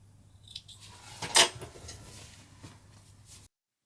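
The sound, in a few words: snipping sewing threads with scissors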